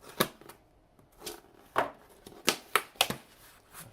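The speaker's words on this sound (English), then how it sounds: "So just using my nice, not very bespoke scissors here." Scissors snip through a cardboard package in a quiet room: a series of sharp, irregular cuts and crackles, close and fairly soft, with short pauses between them.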